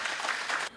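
Short burst of studio audience applause greeting a Korean national team judo athlete on a live Chuncheon broadcast, moderately loud and ending abruptly.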